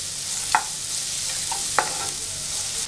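One medium onion, finely chopped, fries in a pan for a creamy tomato soup, a soft steady sizzle punctuated by two sharp clinks of a spoon against the pan, with no voices.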